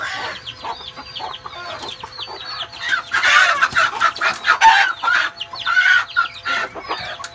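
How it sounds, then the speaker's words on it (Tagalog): Hens cluck and squawk in a busy, overlapping chorus, growing louder and more excited midway, with a rooster-like call mixed in. "Ito yung Nicole na manok."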